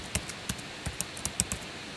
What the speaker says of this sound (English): So I click, and I just type my name.